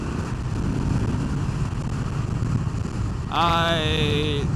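A 2025 Harley-Davidson Softail Street Bob rides in 4th gear with steady engine drone and wind rush, then a sharper rising whine swells near the end.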